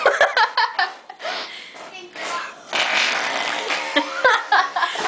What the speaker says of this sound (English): That sounds like a real fart.